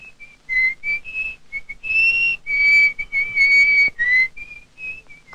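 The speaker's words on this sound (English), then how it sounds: "sometimes I whistle." A person whistles a slow tune alone, with clear, close, sustained pitched notes in short phrases separated by brief pauses, in a setting among coal miners.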